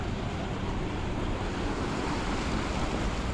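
Ocean surf at a beach in Lahaina, Maui, a dense continuous roar of breaking waves with wind buffeting the microphone, loud and unbroken with no talk.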